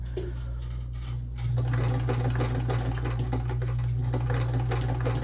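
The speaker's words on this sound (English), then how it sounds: "I'm also going to show you the control of speed that you have with this machine." A Domestic Imperial Automatic Gritzner VZ sewing machine stitches a short 2.5 length stitch, its motor starting softly and then running faster in a steady, close, rapid whirring patter, with no talk over it.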